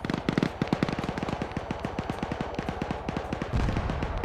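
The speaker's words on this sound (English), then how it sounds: "And there's the explosion" A video game explosion erupts as a rapid burst of sharp crackling pops, dense and rhythmic like a string of firecrackers, loud and continuous before a heavier thump near the end.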